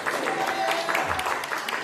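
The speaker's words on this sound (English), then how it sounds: "One person, a drag queen, gets up to dance, and the room erupts in applause." Applause from an audience in a room as a drag queen gets up to dance, a steady dense patter of many clapping hands sustained close by and fairly loud throughout.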